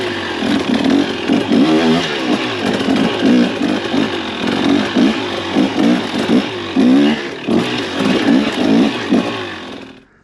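A 2023 KTM 300XC two-stroke dirt bike engine revs hard while riding over rocks, loud and close, with rapid throttle blips and pulsing bursts of acceleration throughout, no talking.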